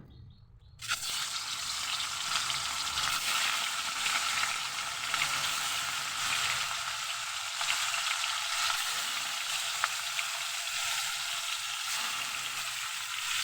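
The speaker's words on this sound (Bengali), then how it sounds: "কড়াইয়ে আমি তেল দিয়ে দিলাম এবার মাছগুলো আমি ভেজে নেব" Salt and turmeric coated fish hit hot oil in a wok with a sudden loud sizzle, then fry in a strong, steady, close hiss that continues without talk.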